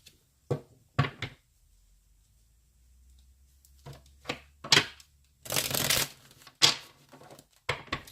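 Tarot cards are shuffled in short bursts, several crisp riffling rustles and slaps separated by pauses, with one longer riffle in the middle, close and fairly quiet.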